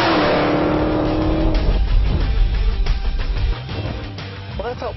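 A 2015 Dodge Challenger SRT Hellcat launches hard from a stop, its supercharged engine roaring loud and rising, tires spinning before traction control cuts in and the roar eases, with a voice talking over it.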